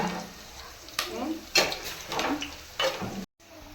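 Puris frying and puffing up in hot oil, bursts of bubbling sizzle that swell and fade several times, close and fairly loud, ending in a brief cut.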